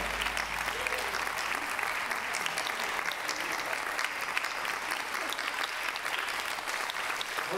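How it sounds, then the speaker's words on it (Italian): A crowd at an outdoor band concert for the San Bartolomeo festival applauds steadily, a dense continuous patter of many hands with faint voices mixed in beneath. "Un applauso fortissimo davvero."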